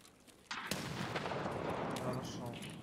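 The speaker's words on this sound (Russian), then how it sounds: "Кидаю гранату еще одну." Grenade blast in the shooter game Escape from Tarkov, a sudden loud boom followed by a long roaring rumble that fades slowly, with a voice talking over it.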